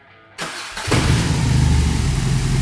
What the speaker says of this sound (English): It's a brilliant sounding engine, really deep.